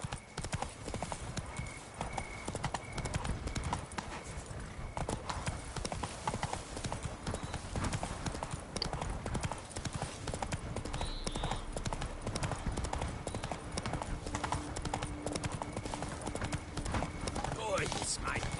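Roach, a horse in The Witcher 3, trots with a steady, continuous clip-clop of hooves throughout, and voices talk over the hoofbeats.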